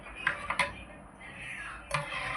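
A metal pot lid clatters open after buttermilk has been tempered, with a few sharp clinks over a steady sizzling hiss in a home kitchen.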